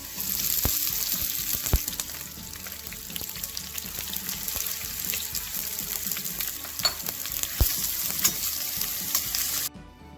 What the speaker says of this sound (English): Once the ghee gets hot, we are going to fry the onions in this.